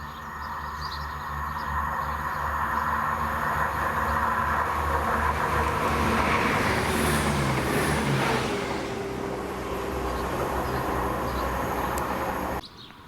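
A ScotRail service from Edinburgh to Arbroath, hauled by locomotive 17395, rumbles steadily through Monifeith station, a loud close roar with a high squeal partway through before it cuts off abruptly.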